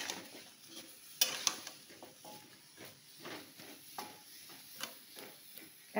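Salted vegetable dish being stirred in a pan, with a soft sizzle under repeated scraping strokes and a few sharp metallic clinks of utensil against the pan, close and fairly quiet.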